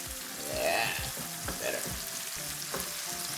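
Tomatoes sizzle and fry in a hot pan for spaghetti with ham, with a wooden spoon stirring and scraping in short, repeated strokes close by.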